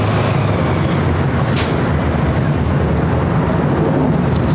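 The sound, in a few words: Aer Lingus Airbus A330-300 jet taking off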